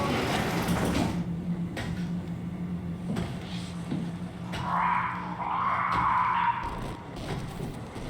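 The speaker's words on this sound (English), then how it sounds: "I'm gonna test to see if he can hear you open doors." A mechanical sliding door in the video game SOMA opens with a low hum, then a rising hiss and whir, followed by thuds and clanks, all in a murky game atmosphere with no talking.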